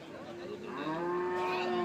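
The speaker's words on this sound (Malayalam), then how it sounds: "അത്യാവശ്യം നല്ല വലിപ്പമുള്ള പശുക്കളാണ് നിൽക്കുന്നത്" A large cow moos once at a cattle market, a long, drawn-out low call that rises and swells toward the end, close by over faint background murmur.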